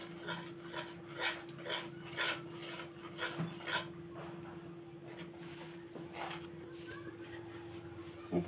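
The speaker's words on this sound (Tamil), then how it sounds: "இப்போ கையில் நல்லா பிணைஞ்சிக்கலாங்க" Naan dough kneaded by hand makes soft rhythmic rubbing and rasping pulses, about one a second, quiet and close, over a steady low hum.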